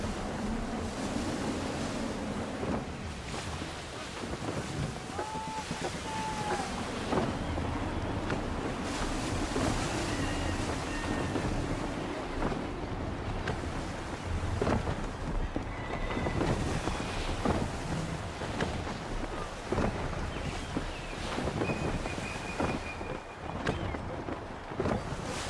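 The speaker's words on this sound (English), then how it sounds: "Try her at full sail. Wind looks to be shifting." Rushing wind and breaking waves around a sailing ship at sea in the video game Assassin's Creed III, a steady broadband roar with gusts, a few faint creaks and tonal calls, no talking.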